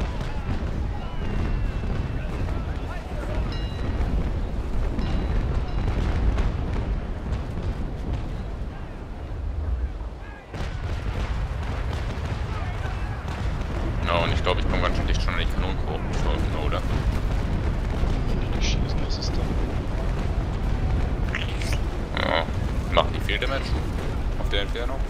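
Repeated booming naval cannon blasts in Naval Action during a port battle at Macao, dense and loud, with rumbling explosions layered over continuous background noise and occasional talking.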